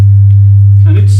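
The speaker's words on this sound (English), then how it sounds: "Now we hear the sine wave of, I can tell you even what is the frequency. It's, let's say, G2." A loud, steady synthesizer sine wave at G2 drones low and pure throughout, with a brief faint voice near the end.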